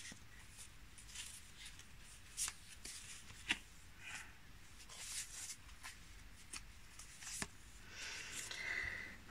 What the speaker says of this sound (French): je vais piocher 2 cartes complémentaires